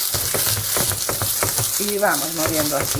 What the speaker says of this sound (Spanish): Cuando ya empieza a sofreír, le ponemos también el pimiento verde